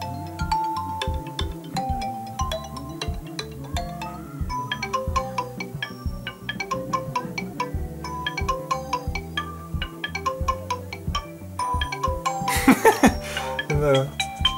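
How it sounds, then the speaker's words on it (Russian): A new MIUI 10 phone ringtone plays on repeat, bright chiming notes over a steady beat, with a brief burst of noise near the end. "Новый рингтон."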